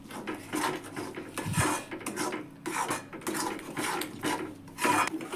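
Stirring pav bhaji masala into bhaji in a pan, heard as steady scraping and rasping of a spoon against the pan in repeated strokes, close and fairly loud, with no talking.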